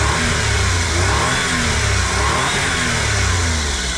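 A stock Suzuki Alto Works HA22S engine, before intake and blow-off valve upgrades, revs close up with a continuous buzzy drone that swells and settles several times, with no other sounds.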